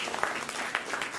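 Applause from a school event audience welcoming young children onto the stage, a faint, distant patter of clapping with a few brief louder bursts over a hazy room background.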